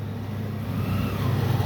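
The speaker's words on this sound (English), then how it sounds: "there's a car and it passes through that, but it's very big" A big car passes on a city street, a low steady engine rumble that swells gradually as it approaches, heard alone without speech.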